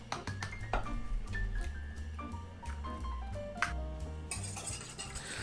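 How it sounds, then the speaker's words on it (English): Two eggs being whisked with a small whisk in a bowl, a quick run of light clinks and taps, close but quiet, with no one talking. "We're going to whisk those with my favorite little whisk."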